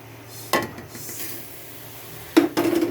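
Fried rice is stirred into jaggery and coconut syrup in a pan, giving a few scraping and clanking hits of a utensil against cookware, spaced out, with a longer quiet stretch in between.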